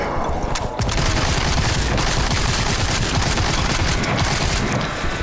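Sustained heavy gunfire in the horror shooter Sker Ritual, a dense rapid automatic barrage that stays loud and close for several seconds with booming low end.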